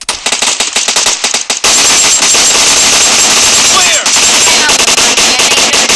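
Gunfire in the mobile battle royale game PUBG Mobile Lite: bursts of rapid machine-gun shots, then a long loud continuous stream of automatic fire with a few sharper cracks, dense and close.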